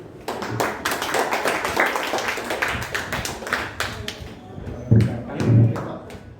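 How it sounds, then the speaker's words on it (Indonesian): A short burst of hand clapping from a few people rings out amid chatter and tapping, with a couple of heavy thumps near the end. "Tepuk tangan."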